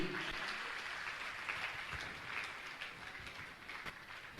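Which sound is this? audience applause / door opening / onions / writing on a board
audience applause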